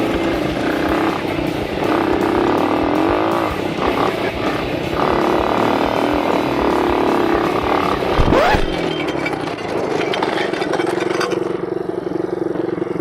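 A 140cc dirt bike engine buzzes loudly and continuously close by while being ridden, its pitch rising and falling with the throttle and one sharp rev spike partway through.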